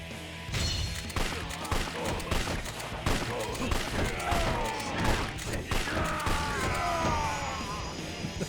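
Gunfire in the crime action game Yakuza 5, a fusillade of shots and impacts layered over busy game music and effects, steady and loud throughout with no talking.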